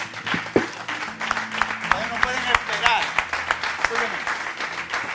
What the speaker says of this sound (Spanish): lo voy a aplaudir yo